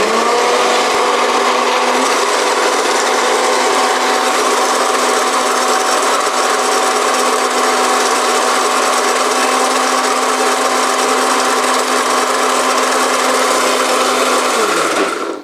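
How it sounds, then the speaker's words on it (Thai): A blender blending salad dressing whirs loudly and continuously at a steady pitch for a long stretch, then winds down abruptly at the end. "นี้เราก็เปิดเครื่องปั่นนะคะ"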